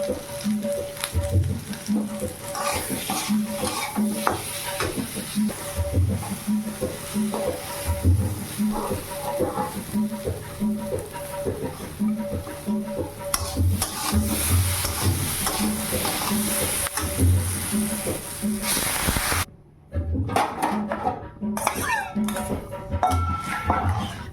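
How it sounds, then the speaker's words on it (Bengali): Potatoes frying with salt and turmeric give a continuous sizzle with repeated spoon scrapes and stirs against the pan, dropping out briefly near the end; a voice talks intermittently over it. "লবণ হলুদ দিয়ে আলুটাকে ভেজে নেব"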